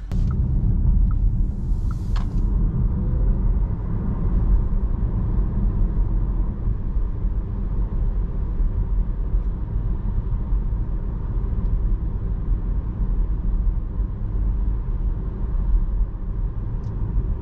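Brand-new Volkswagen ID3 electric car cruising on small roads in the Netherlands, heard from the cabin as a steady, loud low rumble of tires and road noise that stays even throughout with no voices.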